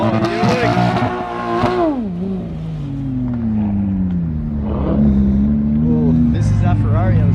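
Ferrari engine revving at a large car meet at Canada's Wonderland: loud, close rising and falling rev sweeps with a deep rumble, alongside crowd noise and excited voices.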